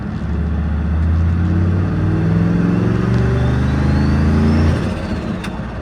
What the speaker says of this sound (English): Man, I really love driving this truck.